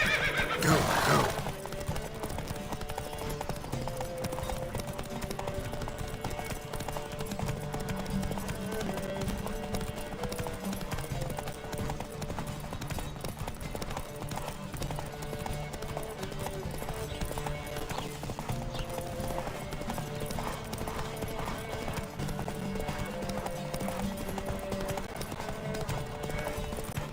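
Galloping hooves clatter in a fast, unbroken rhythm during a horse race in The Witcher 3: Wild Hunt, with a loud neigh at the start and a steady racing din throughout.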